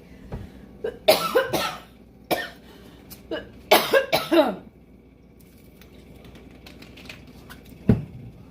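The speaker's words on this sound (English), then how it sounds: "I have to cough." A few bursts of harsh coughing come in clusters, close to the mic, followed by quieter room sounds and one final short cough.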